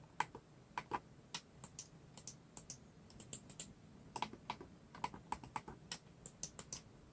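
Buttons clicking on a Hyperkin Hyper Click retro-style SNES replacement mouse, with sharp, quick clicks in irregular bursts, close and alone.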